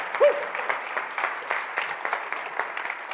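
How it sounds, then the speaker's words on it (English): Audience applause at a droidcon developer conference talk, a steady wash of many hands clapping from a crowd, lasting a few seconds with no speech over it. "Applause for I don't even know anymore."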